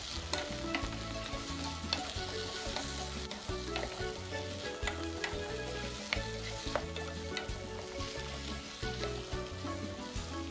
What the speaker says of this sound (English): Now in with the already cooked pigtail, and I'm telling you, everything will be sauteed